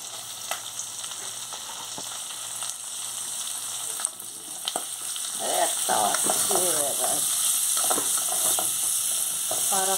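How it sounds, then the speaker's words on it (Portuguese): Onion added to garlic and bacon frying in a pan, a loud close continuous sizzle with stirring scrapes and clatter, growing busier as the onion goes in. "Cheirinho gostoso do alho com bacon. Agora vou jogar uma cebola."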